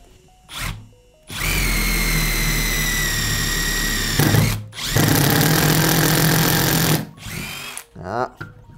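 A Milwaukee M12 FID cordless impact driver bores with an 8 mm bit, giving two long, loud, steady whirring runs with a hammering rattle, set apart by short pauses and brief bursts.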